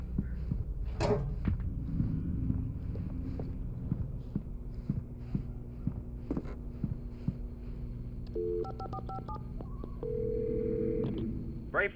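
Telephone call in Alan Wake Remastered at a gas station: a soft ringing and handset line tones with clicks and beeps near the end over a low steady in-game hum, no one speaking.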